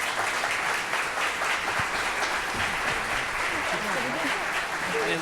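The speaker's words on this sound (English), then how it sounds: "give a hearty round of applause to our panelists" Audience applause for the panelists at a design competition awards event, a steady wash of clapping from a room full of people that carries on for several seconds, with some voices mixed in underneath.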